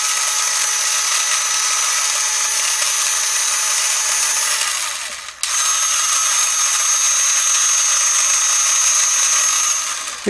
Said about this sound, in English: So let's push this and we'll see all of the gears moving.